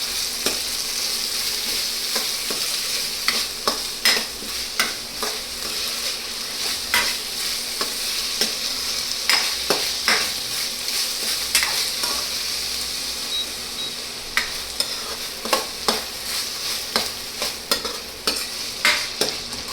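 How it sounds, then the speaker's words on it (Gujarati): Chillies and onion with garlic paste fry in a pan for a pyaaz kachori filling, a continuous close sizzle with repeated scraping and tapping of a spoon stirring throughout. "મરચાં અને પછી ડુંગળી. એને થોડુંક આપણે હલાવી નાખીએ."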